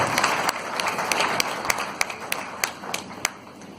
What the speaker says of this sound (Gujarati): તાળીઓ મહેરબાની કરીને સતત વાગવી જોઈએ